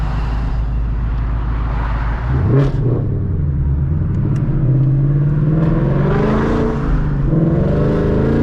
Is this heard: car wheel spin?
yes